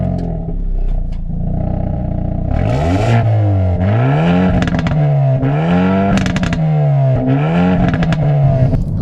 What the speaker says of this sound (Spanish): Es que el sonido de este coche, escuchadlo, os lo pongo